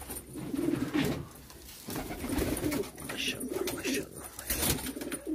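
Çorum Çıplağı breeding pigeons coo in a steady, low, rolling chorus close by, while someone talks briefly over them.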